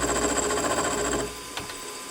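A lathe or milling cutter takes light skimming passes on a part for a Stuart S50 model steam engine, giving a loud, steady machining whir with a high whine that drops off partway through, followed by a brief knock.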